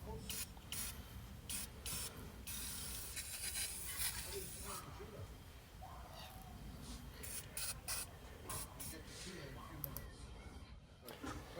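An aerosol rust-protection spray hisses onto the rusted brake and hub areas of an Audi A3, in repeated short bursts and longer blasts close to the mic, with a voice talking at times.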